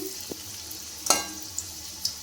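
Dhoka lentil cakes sizzle in oil as they are flipped, a steady hiss punctuated by several sharp clinks and scrapes of a utensil, with no talking.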